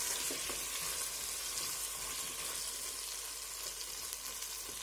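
Onion and chopped potatoes fry in a pot for sorrel soup, giving a steady, dense sizzle with occasional light stirring clicks and no talking.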